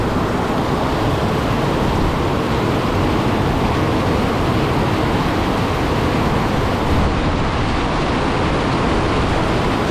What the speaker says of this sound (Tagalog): Malakas-lakas ang hangin.